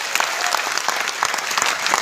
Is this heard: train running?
no